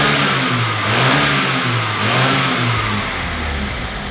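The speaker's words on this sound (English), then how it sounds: "this is the engine running with the sensor disconnected. Right, Carl, could you give it some gas?" A car engine with its mass air flow sensor disconnected revs up under throttle, rising and falling in a rough, uneven surge and sagging near the end, loud and close.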